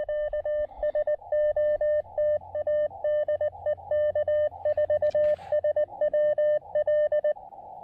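Morse code CW tones on 17 meters from an Elecraft KX2 radio running 10 watts: a clear, steady beeping tone keyed in rapid dots and dashes, close and loud, with a faint background hiss.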